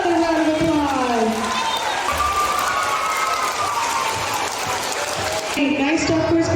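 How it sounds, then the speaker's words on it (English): Audience at a school board of education meeting applauding kindergarten honesty award winners, steady broadband clapping mixed with cheering and children's voices throughout, swelling again near the end. "let's give these kindergarten honesty winners another round of applause"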